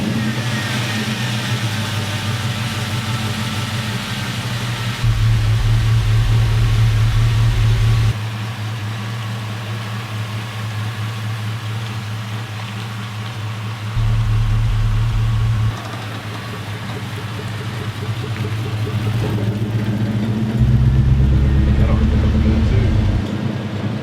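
A tuned LS V8 truck engine runs on a test drive, holding a steady drone with stepped surges of deeper, louder throttle at intervals, close and continuous, with voices talking over it.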